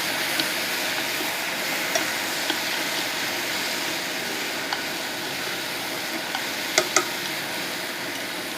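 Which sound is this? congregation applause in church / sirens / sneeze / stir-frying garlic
stir-frying garlic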